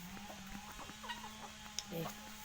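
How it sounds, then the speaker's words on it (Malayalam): A Kappiri breed rooster gives soft, repeated low clucks close by, with a few short calls scattered over quiet background noise. "ഇതാണ് കൊത്തുന്ന പൂവൻ"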